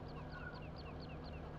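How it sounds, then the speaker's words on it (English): Farm chickens clucking steadily at close range in a short burst, repeated soft calls over a dense background of more birds. "Chickens are getting down a bit."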